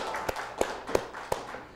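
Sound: audience clapping

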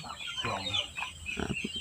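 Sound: native kampung chickens clucking

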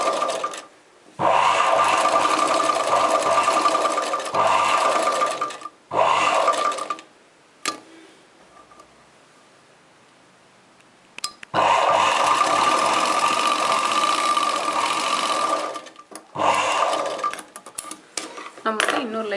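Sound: embroidery sewing machine stitching chudidar neck design

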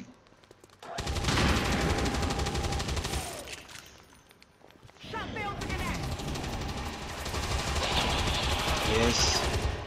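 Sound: gunfire from XCOM 2 video game

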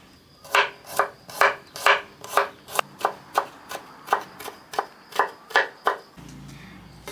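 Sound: knife chopping garlic

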